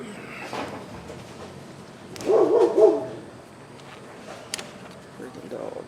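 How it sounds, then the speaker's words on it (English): Dogs barking outdoors nearby during work on a Coleman Powermate Maxa 5000 ER generator, a short burst of several barks midway over low background noise, with a faint sharp knock later. "Freaking dogs."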